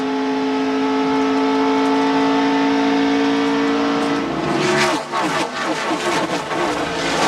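A pack of 1989 NASCAR Winston Cup stock cars roars past at the Miller High Life 400, engines droning steadily and loudly before the tone shifts into a rushing, fluctuating pass near the end.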